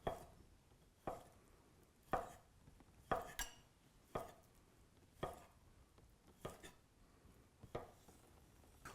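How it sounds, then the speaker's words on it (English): A knife cuts through a large beet on a cutting board, giving a series of sharp, evenly spaced chops about once a second, close and fairly quiet, with no talk. "since this is a large beet, we're going to go ahead and cut it in half again"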